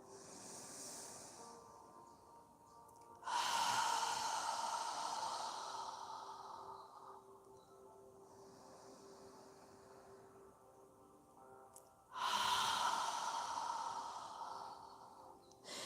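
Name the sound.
slow deep breathing during yoga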